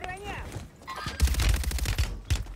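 A short burst of rapid gunfire in the Warzone battle royale game, loud and close, following brief voice chatter and synth tones.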